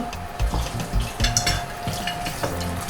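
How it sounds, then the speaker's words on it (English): Onions and salt frying in a pot for a Calabar-style pepper soup, a close sizzle with clinks and scrapes from stirring, no voices. "I'm putting onions first and salt"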